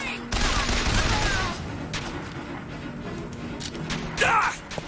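Dense rapid gunfire in Bioshock Infinite, a loud sustained volley at the start followed by scattered shots and clatter, with voices briefly heard.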